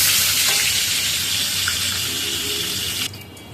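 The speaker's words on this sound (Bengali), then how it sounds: "এবার মাছটা ভেজে উঠাই।" Fish frying in a pan of hot oil, giving a steady, loud, dense sizzle that runs almost unbroken and then drops off sharply near the end, with no talking.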